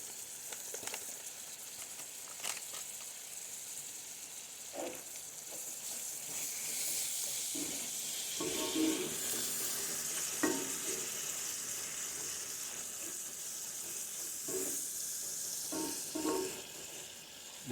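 Corn seasoned with taco seasoning mix sizzling and frying in a pan, cooked indoors in a living room; a steady hiss runs throughout, with scattered louder crackles and stirring scrapes, fairly close and moderate in level.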